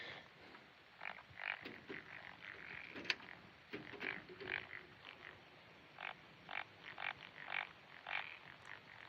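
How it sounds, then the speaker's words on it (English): A frog croaks over and over at a muddy pond as darkness falls, in regular bursts of rasping calls at moderate distance against a quiet background. "That frog is doing my fucking head in."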